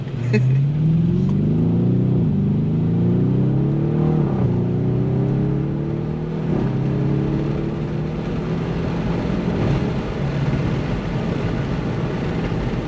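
A 600HP Audi RS6 built by RACE South Africa accelerates hard, its engine note climbing through several rising sweeps as it shifts up, loud and close, settling into a steady drone toward the end.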